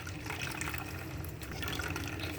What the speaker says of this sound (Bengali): এখন ব্লেন্ড করা নারকেলগুলো ঢেলে দিচ্ছি নারকেলের দুধ বের করার জন্য